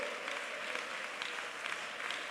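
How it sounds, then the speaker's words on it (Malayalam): A Pentecostal congregation at Sunday worship in Thiruvalla claps steadily in praise, a continuous, fairly soft and somewhat distant patter of many hands with a few stronger claps rising briefly. "ഉറക്കെ കൈയടിച്ച് ദൈവത്തിന് സ്തോത്രം പറ."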